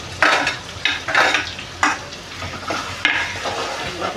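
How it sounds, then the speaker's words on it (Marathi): Onion sautéing in oil with ginger and garlic, a continuous sizzle punctuated by a series of firm spatula scrapes and stirs against the pan, close and fairly loud. "कांदा थोडा परतून घेऊया."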